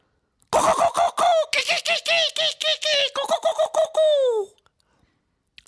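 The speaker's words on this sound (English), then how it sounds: "In other words, a kookaburra." A kookaburra's raucous laughing call rings out close and loud in rapid repeated bursts that rise into chuckling cackles, then fall silent.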